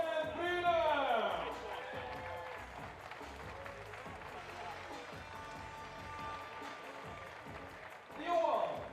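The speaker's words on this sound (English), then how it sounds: "Make a round of applause for the winner, Nico, Captain and Liman." An outdoor crowd at the finals of a FIBA 3x3 basketball World Tour event applauds the shootout contest winner, with whoops and rising cheers at the start and end, and an announcer talking over it.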